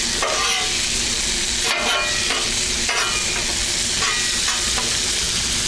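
Cheeseburger patties sizzle and fry steadily on a grill, a loud continuous crackling hiss with occasional spatter bursts, no talking.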